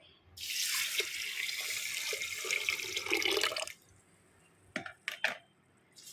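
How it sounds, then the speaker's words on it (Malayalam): A steady rush of water pours over grains to soak them for a few seconds, stops, then a couple of brief splashes and clatters follow in quiet surroundings. "ഇനിയിപ్പం ഇത് കുതിരാൻ ആവശ്യമായ വെള്ളം ഒഴിച്ചു കൊടുക്കുക."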